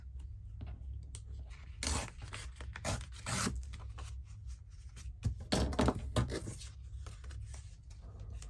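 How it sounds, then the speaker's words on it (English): Excess craft paper is torn off by hand while making faux antique letter ephemera holders: a few short, close, rasping tears in separate bursts, with no talking. "then we'll just tear off the excess"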